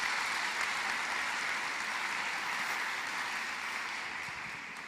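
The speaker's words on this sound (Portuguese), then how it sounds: "pode aplaudir a palavra" Congregation at a revival church service applauding steadily, a dense sustained wash of clapping that holds for the full stretch and tapers slightly at the end.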